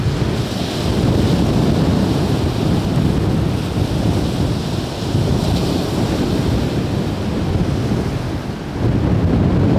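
Rough sea surf crashes and churns near a harbour as a squall approaches, with heavy wind buffeting the microphone in a dense, continuous roar that dips briefly and surges again.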